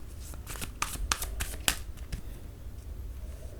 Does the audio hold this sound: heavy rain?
no